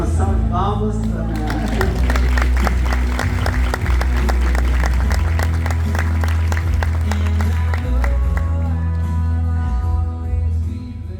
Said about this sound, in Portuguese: Gente, uma salva de palmas para